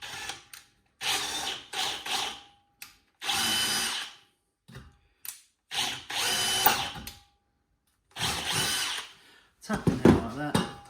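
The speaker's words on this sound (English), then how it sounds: "is drill and tap it. So just a bit of using a 4mm tap, because we're using 4mm bolts" A power drill bores into a workpiece and a 4mm tap cuts a thread for 4mm bolts during trunking work, in repeated short whirring bursts with brief pauses between them, close and fairly loud.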